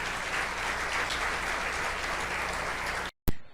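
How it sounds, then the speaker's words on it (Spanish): A church congregation breaks into loud, steady applause after a sermon, a dense wash of clapping that holds evenly before cutting off abruptly. "Dele un fuerte aplauso al Señor."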